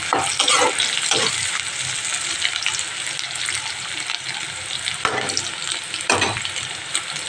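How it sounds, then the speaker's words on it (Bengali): Onions fry in a little oil in a wok over a tempering of cumin, dried chillies and bay leaf, giving a steady close sizzle with occasional scraping stirs and no talk. "দিয়ে জিরে শুকনো লঙ্কা তেজপাতা ফোড়ন দিয়ে এবার পেঁয়াজটা ভেজে নিচ্ছি।"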